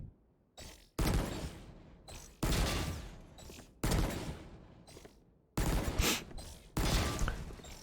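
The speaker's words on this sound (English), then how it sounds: "I'm just shooting things here." Bulldog rifle fire at practice bots in the Valorant video game comes in repeated loud bursts, about six clusters of sharp rapid shots separated by short pauses, close and punchy with no talking.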